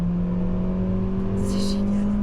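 A Honda Civic Type R EP3 engine hums at steady revs, a strong low drone with a whining overtone that runs through the whole clip, and a brief higher whir rises near the end.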